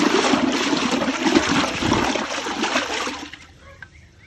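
Biodynamic preparation being stirred in water, a continuous loud swishing and splashing churn that fades to quiet near the end.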